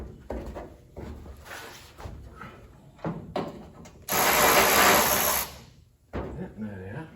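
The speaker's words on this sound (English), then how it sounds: "proceed taking this nut all the way out." A wrench works a nut loose to free a car hood, with short metallic ratcheting clicks and clunks and one loud, sustained broadband burst near the end. Brief voice sounds appear between the bursts.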